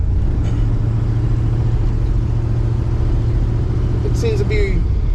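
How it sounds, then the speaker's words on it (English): A Dodge D150 pickup truck with a 727 automatic transmission on a test drive, its engine a steady low rumble inside the cab throughout, with a brief higher squeal near the end. "We're in the D150 taking a test drive."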